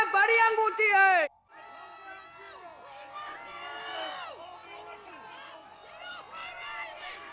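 A large crowd at a New York mayor's speech hoots, jeers and shouts in a sustained, moderately loud roar of overlapping voices, opening with a brief louder burst of yelling.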